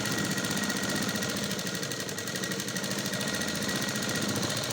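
A sewing machine runs continuously, stitching a dori tie onto a blouse, its rapid, even mechanical whir and needle chatter steady and close throughout with no pauses.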